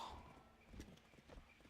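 Horse hooves clip-clop in the Black Desert Online video game, a few soft, light footfalls at a slow walking pace, faint and quiet.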